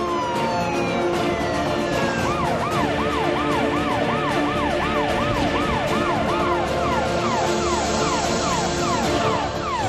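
An ambulance siren wails loudly and continuously as the vehicle speeds along a road, its rising and falling yelp cycling steadily over a constant roar of road traffic.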